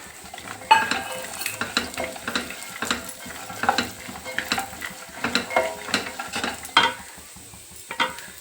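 Walnuts, sunflower seeds, melon seeds and other seeds dry roasting in a pan for laddu, with steady stirring scrapes and light rattles against the metal, a continuous close sizzle and no talk.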